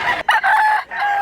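A rooster, a large tall bird offered for sale, crows loudly and close by in a few strong drawn-out bursts with short breaks between them.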